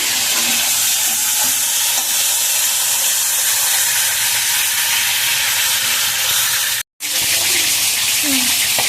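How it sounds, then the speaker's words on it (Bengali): Spice-marinated chicken pieces fry in oil for chicken biryani, giving a loud, steady, close sizzle that runs almost unbroken, with one brief gap near the end. "আর এই যে আর কিছুটা আমি ভাজছি এখন"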